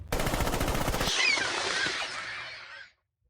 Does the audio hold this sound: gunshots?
yes